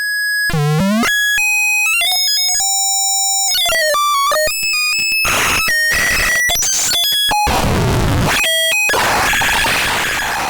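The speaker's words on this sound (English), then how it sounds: "This creates a chaotic feedback loop that can be shaped by the wave, pulse width modulation and pitch controls." Chaotic feedback from an MCO compact digital VCO synced to itself: harsh, rapidly jumping pitched tones, chirps and bursts of noise switching abruptly in glitchy, unpredictable steps, loud and continuous with no talking.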